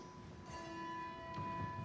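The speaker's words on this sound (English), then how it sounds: "ring a bell after each person speaks" A bell rings once at a memorial tolling, giving a clear struck tone with long sustained overtones that hang steadily in a quiet room. No voices are heard.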